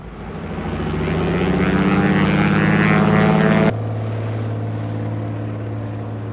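A propeller plane carrying moose meat out of the Alaskan wilderness drones loudly and close, its engine note swelling before abruptly dropping to a lower, steady hum.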